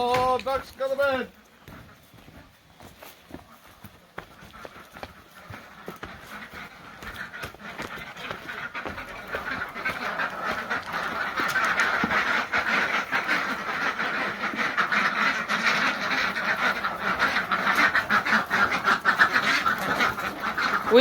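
A brief harmonic call at the start, then a growing, dense chorus of ducks quacking and chattering for a long stretch, with people talking intermittently.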